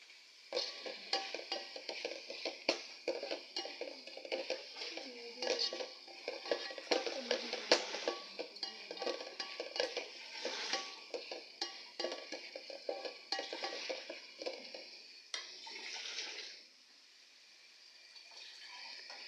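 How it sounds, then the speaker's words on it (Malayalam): Onions, tomatoes and curry leaves frying in a pan: a close, crackling sizzle with frequent metallic stirring clicks and scrapes, easing toward a softer hiss near the end. "സവാളയും കരിവേപ്പില എല്ലാം ഒന്ന് വേവാനുണ്ട്"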